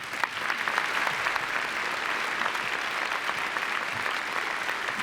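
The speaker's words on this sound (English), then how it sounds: "Please give our alumni leaders, our donors, our government leaders a round of applause." An audience applauds at a university investiture ceremony, a steady, dense wash of many hands clapping that holds evenly for about five seconds in a large hall.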